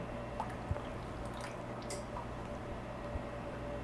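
Melted butter poured into a mixing bowl of egg and canola oil for honey butter cornbread, giving faint, quiet liquid drips and soft squishy splashes with a few brief taps.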